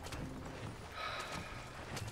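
Horses in Red Dead Redemption gallop with a quick, muffled clatter of hooves under a steady background wash, fairly faint and brief, with no talking.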